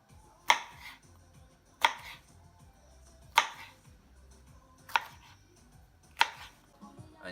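A knife chops food on a cutting board for pique a lo macho, Bolivian beef and sausage dish, five crisp, evenly spaced strokes about a second and a half apart, close and clear with quiet background.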